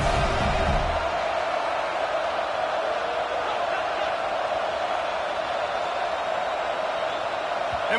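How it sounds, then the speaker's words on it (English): A packed stadium crowd in a college football video game roars steadily, a dense, loud wall of noise that holds without letup across the whole stretch. "with this place rocking, the crowd forces a false start"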